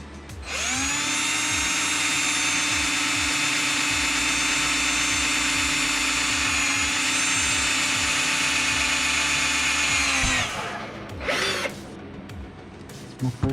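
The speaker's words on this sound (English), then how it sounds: "Where we want to drill." Handheld power drill spinning up and running steadily for about ten seconds while boring a hole during a DIY automotive smoke machine build, then winding down, followed by a short second burst; close and loud, no talk.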